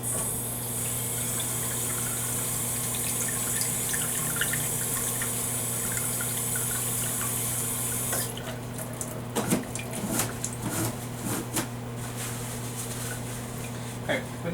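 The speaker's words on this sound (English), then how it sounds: "I'll get my hands washed and we'll get started" Water runs steadily from a tap as hands are washed at a sink in a nursing exam room, a continuous close rush that becomes splashier and more broken in the second half, over a constant low hum.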